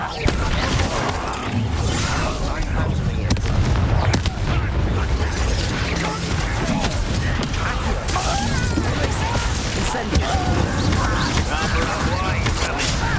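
Bombarda blasting spell explosions in Hogwarts Legacy during a goblin attack, loud continuous booms, crashes and shattering debris in a chaotic battle, with voices shouting over the din.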